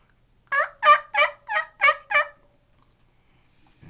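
A hunter's mouth call for turkey imitates a bird, giving six sharp, evenly spaced yelps in a steady rhythm, close and clear, followed by quiet.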